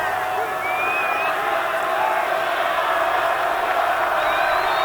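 A loud crowd at a schoolboy rugby match between St. Joseph's Nudgee College and The Southport School cheers and shouts continuously, a dense roar of many voices with scattered whoops rising above it throughout.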